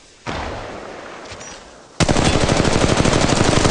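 Automatic weapon fire in Apex Legends Mobile: an initial sharp shot with a decaying tail, then a loud, rapid, steady stream of machine-gun rounds close up, with no talk.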